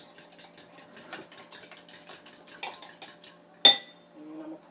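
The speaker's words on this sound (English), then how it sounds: "Mix these up first." A utensil beats eggs and mashed bananas together in a bowl, producing a rapid, regular series of light clinking taps, followed by one sharper louder knock against the bowl.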